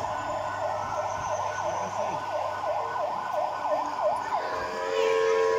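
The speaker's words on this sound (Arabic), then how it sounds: "هاي سياره الاسعاف اللي راح تاخذ لها فره بهذا المكان الجميل" A toy ambulance siren on a children's ride-on car at a kids' amusement park wails in quick, even up-and-down sweeps for about four seconds, then cuts off under steady background crowd noise.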